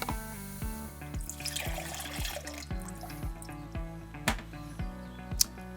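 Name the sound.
Mistercool water mister spraying into a bucket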